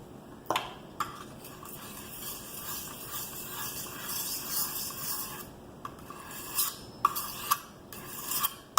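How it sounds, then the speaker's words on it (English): Kitchen knife stroked back and forth across a coarse oiled sharpening stone, a steady scraping rasp with a few sharper scrapes, close and without talk. "Back and forth, keeping the knife as flat as possible."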